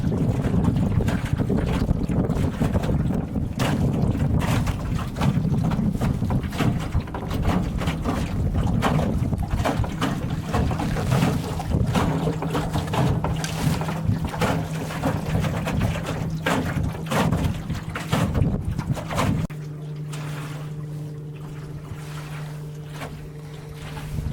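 A small solar-powered Grumman sport boat glides over a river with steady wind buffeting the microphone and a faint low electric motor hum, water sloshing along throughout.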